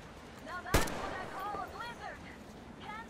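A single sharp crack of AK rifle fire rings out in the Metro Exodus video game during a snowstorm, followed by scattered game sounds and faint voices.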